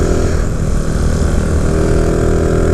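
A Honda Grom/Monkey motorcycle engine running at full throttle while pulling a utility sidecar gives a loud, close, steady buzzing drone that holds without a break.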